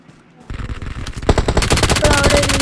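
Rapid automatic gunfire from a battle royale video game, bursts of shots building from a quiet start into dense, loud, sustained volleys, with sharp repeated cracks layered over one another.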